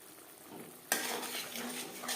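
Spice paste for a vegetarian cauliflower curry being sautéed over low to medium flame, with a quiet start and then a sudden loud sizzle and stirring clatter that keeps going.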